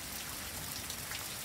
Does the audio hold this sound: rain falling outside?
yes